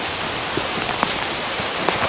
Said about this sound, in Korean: 비가 또 오네.